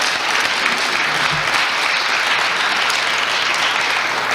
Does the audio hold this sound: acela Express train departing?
no